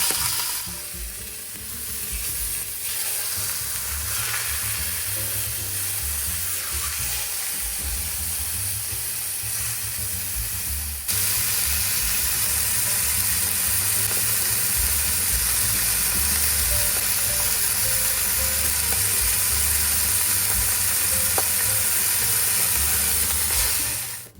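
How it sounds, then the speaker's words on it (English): Beef fillet browning in a hot cooking pot fills the space with a loud, continuous sizzle and hiss that intensifies and brightens partway through and keeps going steadily, close up and with no voices over it. "now I'm going to put in the meat to brown it"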